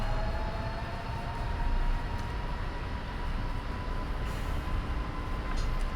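Boeing 777 engines spool up to takeoff thrust, heard as a steady, loud broadband roar with a thin whine that climbs slowly in pitch throughout.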